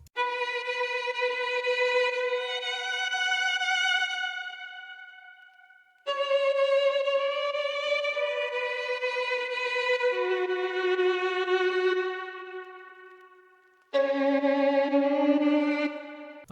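A sliced dark violin sample swells with a gentle fade-in and fade-out pulse, giving rhythm across three long, sustained phrases; the bowed tones sound full and loud, with no voices.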